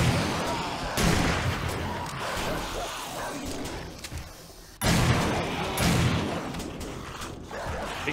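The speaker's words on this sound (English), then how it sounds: "I use the gun, I think." Gunfire from the 7 Days to Die video game during a horde-night tower defense, dense bursts of shots with crashing impacts, loud and continuous with a fresh barrage after a short lull.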